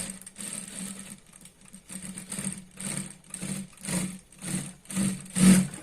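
A sewing machine stitches a seam on a dhoti salwar, running in short repeated bursts with brief pauses between them, building louder toward the end.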